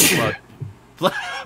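One sharp, explosive sneeze bursts out up close, followed by a brief pause and then someone talking during a live chat show.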